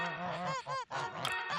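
Geese honk in a rapid run of loud, close, nasal calls with a brief gap before a final burst.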